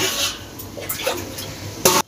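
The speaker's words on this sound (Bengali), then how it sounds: "আলুটা তো সেদ্ধ নেই, তাই জন্য একটু জল দিলাম" Water poured into a pan of cooking jackfruit and potatoes for a Bengali-style jackfruit and prawn dish, a short hissing splash with light clatter from the pan, ending in a brief louder burst.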